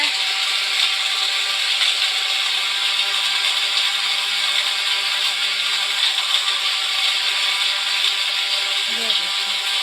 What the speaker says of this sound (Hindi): ये देखिए, अब हम इसे करेंगे ग्राइंड। हमारा ग्राइंड हो रहा है।